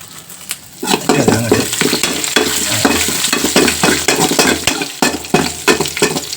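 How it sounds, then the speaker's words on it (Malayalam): Sliced shallots and curry leaves fry in hot oil, a loud close sizzle that surges as ingredients drop in, with repeated scraping stirs and clinks against the pan. "ഈ കൊച്ചുള്ളി ചെറുതാക്കി റൗണ്ടായിട്ട് അരിഞ്ഞിട്ട് അതൊന്ന് മൂപ്പിച്ചെടുക്കണം"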